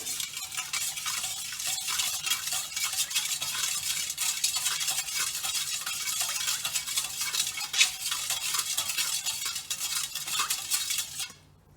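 Sugar being whisked into liquid in a bowl for cinnamon roll dough, a fast continuous scraping and clinking of the whisk against the bowl, close and steady, stopping abruptly at the end.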